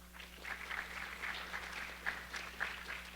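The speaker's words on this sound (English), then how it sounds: "Students, give your parents a round of applause." Applause from an audience of students for their parents at a high school National Honor Society induction ceremony, a steady wash of many hands clapping in a hall, moderately distant and sustained throughout.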